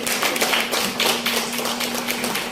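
Audience applause at a live arts talk event, dense and steady clapping throughout, with a faint sustained tone running beneath it.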